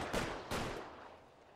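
Two quick gunshots crack close together in LA Noire, a sharp pair of bursts that ring out and fade into a quiet tail.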